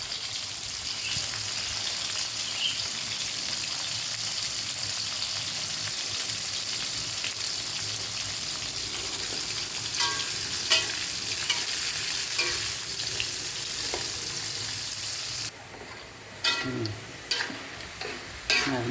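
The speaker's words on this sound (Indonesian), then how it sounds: "Nah, ini goreng petainya sudah mulai menguning ya, jangan sampai menghitam" Petai (stink bean) skins frying in a pan for sambal, with steady dense sizzling and occasional stirring scrapes throughout, loud and close with no talk.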